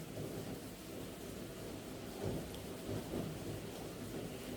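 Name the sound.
heavy rain and thunder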